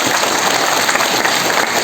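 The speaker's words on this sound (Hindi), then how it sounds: "प्लीज सबके लिए एक जोरदार ताली भी चाहता हूँ" An audience in a hall at a business opportunity meeting breaks into steady, dense applause, loud and close, with many hands clapping continuously and no clear talk over it.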